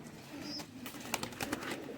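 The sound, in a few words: Faqeer Gul pigeons cooing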